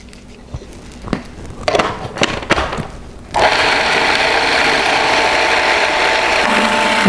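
A blender whirs pesto with cheese and oil. A few short knocks and clatters come first, then the motor starts and runs loud and steady, close up, with no talk over it.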